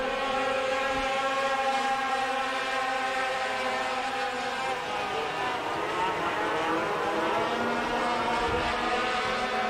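Sport trucks roar around a short oval track at a race, multiple engines droning loudly and continuously with shifting pitch as they run side by side, with a commentator's voice faintly beneath.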